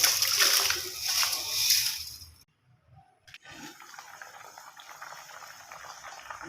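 Sugared carrots for carrot jam are tipped into a pot of water and bubble on the stove, a loud hissing, splashing boil that drops to near silence, then a steady softer simmer.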